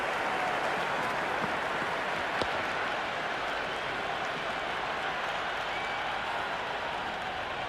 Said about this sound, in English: It's the most enthusiastic crowd you could ever see right now. There's a buzz, a real buzz.